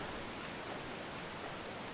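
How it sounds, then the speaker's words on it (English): Steady broadband rushing of a waterfall in The Legend of Zelda: Twilight Princess, a continuous, even wash of falling water with no voices over it. "there's a waterfall right there."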